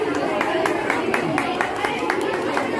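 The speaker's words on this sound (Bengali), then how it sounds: "তোমাদের সবার জন্য এই হাততালি।" A group claps for students at a recycled-product exhibition, with steady, fairly even hand claps continuing under a voice speaking throughout.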